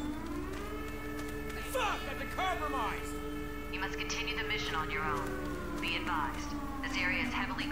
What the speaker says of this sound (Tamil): தப்பித்தவரி சைரன் ஆன் ஆயிடுச்சா?